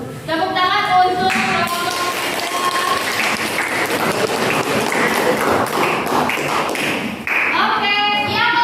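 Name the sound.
audience applause after a presentation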